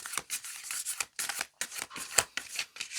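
Tarot cards being shuffled close to the microphone, a run of crisp riffling and snapping bursts separated by brief pauses, with no talking.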